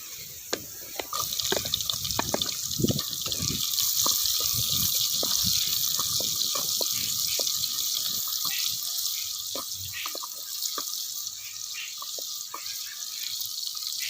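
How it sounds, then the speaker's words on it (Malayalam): Small shallots hit hot coconut oil for a sardine fish curry, giving a steady sizzling hiss. Scattered crackles and pops fill the first seconds, then the frying settles into a softer, even sizzle. "വെളിച്ചെണ്ണ നന്നായി ചൂടായി വന്നിട്ടുണ്ട്. അതിലേക്ക് ഒരു 4 ചുള ചെറിയ ഉള്ളി,"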